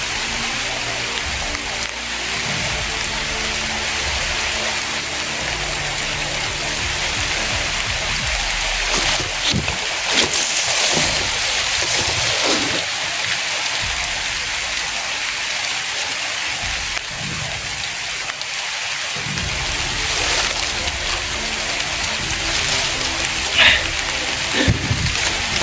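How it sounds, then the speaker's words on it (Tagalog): Sudden rain in a video game falls as a dense, steady hiss across the whole stretch, with brief low thumps and small bursts breaking through now and then. "Umulan, biglang umulan mga dol."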